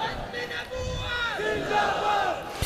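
A crowd at a religious conference roars slogans in unison, a loud massed chant of many voices swelling and falling across a few seconds.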